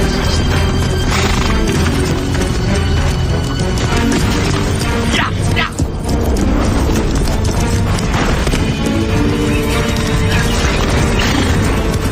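Horses neigh and hooves clatter amid a loud, dense adventure-drama soundtrack with crashes and booms, all packed together with no pauses.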